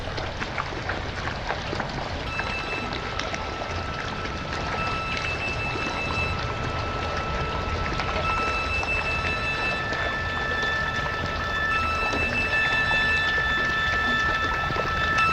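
A cassette tape loop recorded sound on sound on a Tascam 414 plays back as chirping, whistling dolphin-like tones over a dense hiss and clicking texture. The sound is continuous and steady for about fifteen seconds, with no talking.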